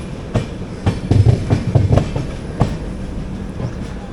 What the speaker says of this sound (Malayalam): നമ്മൾ ജസ്റ്റ് കോഴിക്കോട് സ്റ്റേഷനിലേക്ക് കയറാൻ പോകുന്നു.